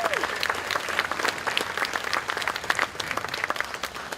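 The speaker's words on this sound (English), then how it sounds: "Let's also give a big round of applause to the Isle of Flags Committee." A crowd at an outdoor July 4th band concert gives a warm round of applause, with thick, steady clapping and a few voices murmuring underneath.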